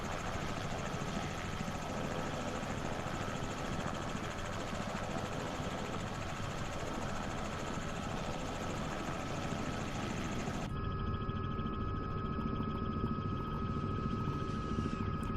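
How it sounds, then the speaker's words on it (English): A simulated Robinson R66 helicopter in Microsoft Flight Simulator 2024 drones with a steady, dense turbine and rotor hum. The sound is continuous and even throughout, and its tone shifts slightly about two thirds of the way in. "Sound of this helicopter is pretty cool."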